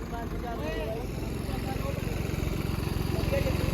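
A tractor engine labours in a tractor-pulling contest on farm fields, its rapid thumping beat growing louder and more insistent, with people talking over it.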